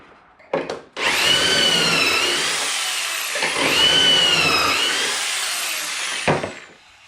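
A power drill whines loudly through cedar planter frames in two sustained bursts, the motor pitch dipping under load, with a clunk of wood handling before and after each run.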